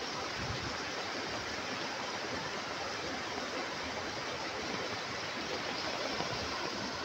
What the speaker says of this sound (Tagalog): Yung galing dun sa bundok, dito sa amin bumababa ang tubig.